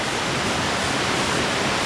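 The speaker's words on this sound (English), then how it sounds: "I don't know if you can hear the waterfall in the background" Steady broadband rush of a waterfall in an old-growth forest on Vancouver Island, an even hiss with no breaks and no talk.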